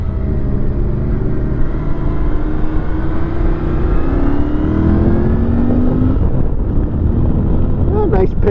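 A Royal Enfield Interceptor 650 motorcycle engine accelerating on the road, its rising exhaust tone climbing steadily through the gears under heavy wind rush, loud and close to the rider.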